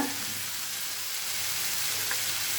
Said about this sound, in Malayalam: എണ്ണയിലിട്ട് നന്നായിട്ട് തക്കാളി വേവിക്കണം